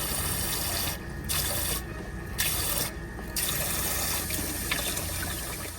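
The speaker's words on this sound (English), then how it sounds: "And just like that, we got water." Water rushing from a newly connected RV faucet, a steady close hiss of running water with brief gaps and shifts in flow, no voices.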